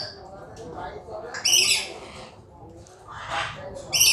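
Shrill, brief lorikeet squawks burst out three times at a crowded bird exhibition, sharp and close, with a murmur of people in the background.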